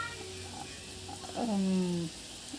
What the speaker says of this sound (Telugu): సఫాయిటిడ మన ఇంగువ వేసి పోపు చేసేసుకున్నాను